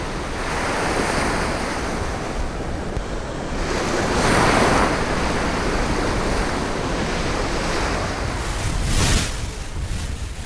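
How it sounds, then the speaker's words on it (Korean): Rough sea surf pounds the shore as strong typhoon winds buffet the microphone on a remote island, with continuous roaring wash and gusts swelling around the middle and near the end, no voices present. "파도가 심상치 않다."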